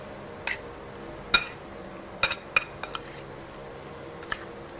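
Egg and salt whisked together in a bowl, heard as sparse, sharp clinks and taps of a utensil against the dish, several isolated strikes spread across a quiet kitchen background.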